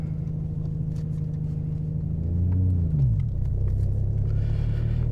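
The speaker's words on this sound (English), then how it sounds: "I'm gonna do it from first gear." A Nissan GT-R pulling away from first gear, a loud, steady low rumble whose engine tone rises then drops as it shifts, heard continuously up close with no talk.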